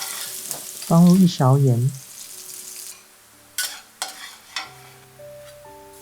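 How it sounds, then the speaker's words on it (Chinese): Garlic fries in oil in a moderately hot wok, a lively sizzle with clinks of a spatula against the metal, after a short spoken phrase near the start. "炒大蒜的时候，锅不能太热，不然大蒜会焦。"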